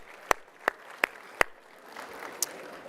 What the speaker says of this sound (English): let's give another round of applause to the Los Angeles County Sheriff's Department Honor Guard